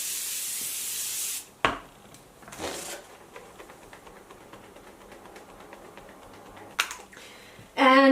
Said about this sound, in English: I'm going to throw on some setting spray. I'm going to use the Morphe Continuous Setting Mist.